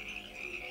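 Cartoon frogs croak steadily beside soft, marshy ground, a continuous chorus of croaking held at an even level throughout.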